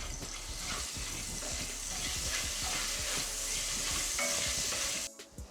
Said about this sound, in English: we'll add 1 spoon of ginger garlic paste and again we'll roast it for 2 minutes